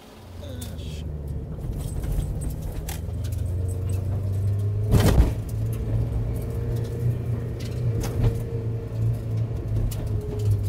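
Mazda MX-5 engine accelerating on a circuit in Japan, heard from inside: a low, steady droning hum that slowly builds in level, with scattered small clicks and rattles and one sharp knock midway, moderately loud with no talk.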